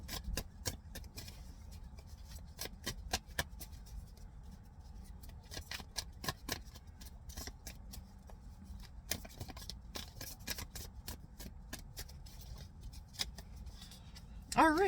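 Tarot cards are shuffled close and quiet in a series of quick crisp riffles and soft slides, with talking running underneath.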